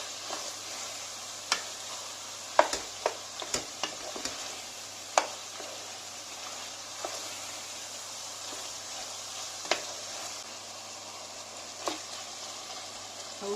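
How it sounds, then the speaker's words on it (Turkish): Chicken in curry sauce simmers in a pan with a soft, steady sizzle and bubbling, broken by scattered clicks and scrapes of stirring, fairly quiet and close with no talking. "1-2 dakika köriyle de kaynasın. Köriyle pişsin sonra kremamızı ekleyelim."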